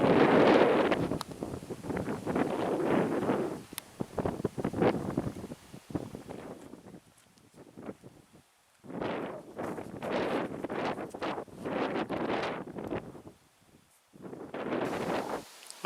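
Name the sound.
wind on a cliff edge above Lake Superior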